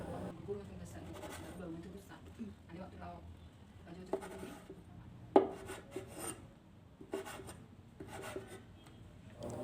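A knife chops beef ham into small pieces on a board, giving rasping, scraping cuts and occasional sharper knocks under a person talking.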